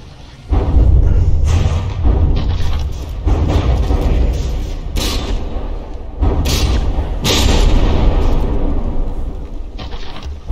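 Heavy battleship guns fire shells in From the Depths during a tournament brawl. Deep, loud thuds and booms repeat irregularly over a dense, continuous rumble of battle.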